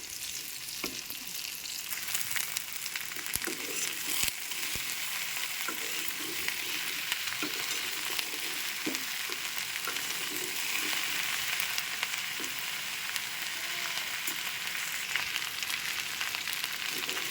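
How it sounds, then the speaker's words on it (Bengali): Flat beans frying and being stirred in an old wok give a soft, continuous sizzle, with occasional scraping knocks of the spatula against the metal; quiet and close, no one speaking. "আমার শাশুড়ির এটা পুরাতন কড়াই, কিন্তু অনেক সুন্দর ভাজি হয় এই কড়াইটায়।"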